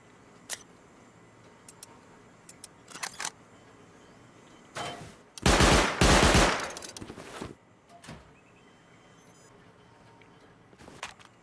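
Automatic turrets in the video game Rust open up in a loud, sustained burst of rapid gunfire, preceded and followed by scattered sharp single shots and clicks against a quiet background.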